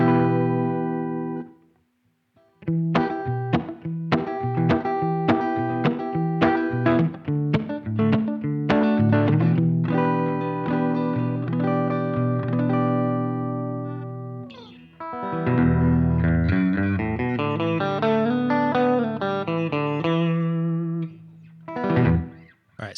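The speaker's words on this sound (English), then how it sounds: "I'll first give you the clean tone." Clean electric guitar tone run through an effects pedal with plate reverb, played alone: a sequence of plucked single notes and chords, then a denser strummed passage ringing out with reverb tails, briefly pausing near the start.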